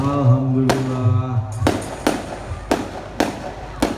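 Fireworks burst at a Kubu Raya anniversary celebration at night, five sharp loud booms in a spaced rhythm following a sustained tonal whine, with a voice briefly heard at the start.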